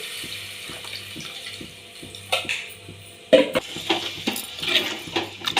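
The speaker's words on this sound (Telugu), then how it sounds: "ఇప్పుడు ఇందులోనే మనము చింతపులుసు అయితే పోసుకోవాలి." Tamarind juice is poured into a cooking pot in a home kitchen, giving soft liquid trickling with a few sharper splashes and clinks partway through, fairly close, with no talking.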